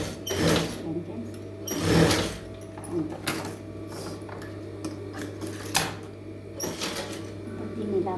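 A sewing machine stitches a blouse in short bursts of rapid mechanical clatter, close by, with a steady low hum underneath and someone talking over it.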